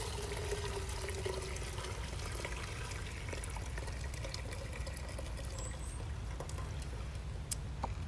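Water dyed with mushrooms pours through a large kitchen strainer into a pot as a steady, unbroken rushing trickle that lasts throughout.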